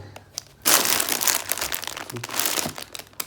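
Loud crinkling of plastic bags begins after a short quiet moment and continues with constant rustling and crunching, close to the listener.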